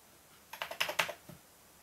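Someone types on a computer keyboard modded with a carbon fibre cover, a quick burst of about eight crisp, close keystrokes with no talking.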